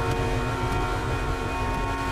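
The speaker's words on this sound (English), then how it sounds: "Everybody's honking." Several car horns blare together in a GTA 5 Online stock car race, a steady, sustained honking chorus over rumbling engines that holds at an even loudness throughout without pause.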